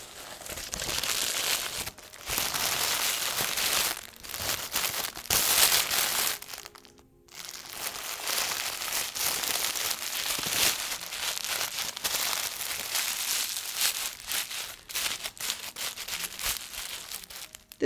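Leftover tissue paper crumpled and crinkled by hand, a continuous close rustling with bursts of sharper crackling and a brief pause partway through.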